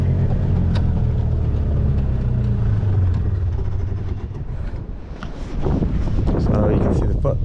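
A Yamaha G1 golf cart's small engine runs loud and close, a rough steady drone that dips briefly and then picks back up, with a person talking over it.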